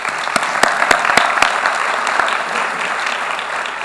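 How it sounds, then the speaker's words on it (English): Sustained applause from a conference audience at an opening ceremony in Rwanda, a steady dense clapping wash with several sharp louder claps near the start, filling the whole stretch at moderate loudness. "Let's give her a heartfelt round of applause."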